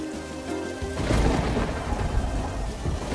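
A cartoon thunderstorm cracks into a loud thunder roll after a brief tonal opening, then heavy rain pours on in a dense, constant wash that stays close and strong.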